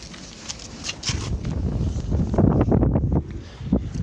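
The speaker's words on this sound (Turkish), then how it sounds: "Abi rüzgar hızlandı gene." Steady wind buffeting a microphone, a low rumbling roar that swells and gusts, with some faint rustling and movement mixed in.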